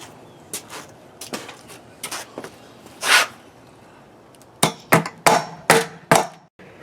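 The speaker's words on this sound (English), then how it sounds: "So I'm going to go ahead and hammer them in." Hammering pieces into drilled holes while assembling a Wildgame Innovations Quick Set 225 tripod feeder: sharp, irregular strikes, a few scattered early and then a quicker run of about six loud blows near the end, with no talking.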